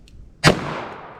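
A single sharp gunshot from a .44 Special revolver fired into a ballistic gel test block, a loud close crack followed by a decaying echo tail, with no voices.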